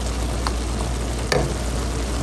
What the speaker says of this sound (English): The meat is starting to brown up nicely.